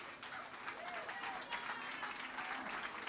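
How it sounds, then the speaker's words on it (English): Crowd applause at a county fair beef show honoring the grand champion: steady, dense clapping from a fairly distant audience, continuous throughout with no pauses. "nice round of applause for your grand champion here."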